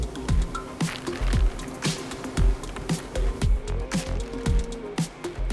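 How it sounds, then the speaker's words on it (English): Water added to 25 pounds of ground meat and seasoning in a mixer gives wet squishing and sloshing with rhythmic dripping and gurgling pulses, loud and close, with no voices. "So now we can go and add our seasoning, free weight for 25 pounds of meat, and then our water."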